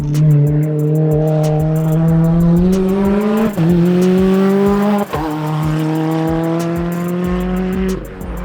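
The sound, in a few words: drift car passing by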